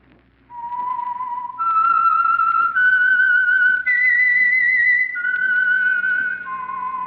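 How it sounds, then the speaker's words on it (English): Signature whistled theme of The Whistler mystery radio program, a lone clear melodic whistle rising and falling through several sustained notes over about seven seconds, loud and close with no talking. "That whistle is your signal for the Signal Oil program, The Whistler."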